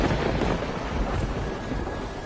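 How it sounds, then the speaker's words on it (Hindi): Heavy rain pours down steadily with low rolling thunder, a loud dense wash of noise from start to finish with no voices. "बहुत तेज बारिश हो रही है सर"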